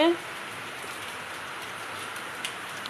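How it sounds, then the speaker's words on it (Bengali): Heavy rain heard from a balcony pours down in a steady, dense hiss, loud and continuous throughout. "বাইরে প্রচণ্ড বৃষ্টি হচ্ছে"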